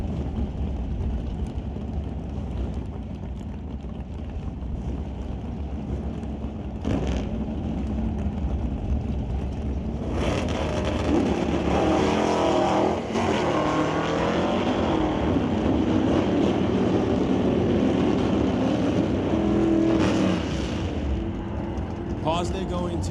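A drag race run at Mission Raceway Park pitting an El Camino against a Mustang, engines droning at a distance before a loud, rising roar takes over, with a voice talking over the racing noise.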